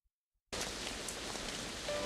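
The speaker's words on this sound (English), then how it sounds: "The rain is the strongest since the rainy season ended." Heavy rain in the Shuffle! game bursts in after a moment of silence, then pours as a steady, dense, even hiss with no voices.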